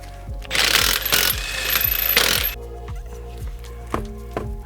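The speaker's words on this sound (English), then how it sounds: "So step one, remove the wheel." An impact wrench loosens the rear wheel lug bolts of a BMW F80 M3, a loud close rattling burst followed by metallic clinks of bolts and tools, with no speech.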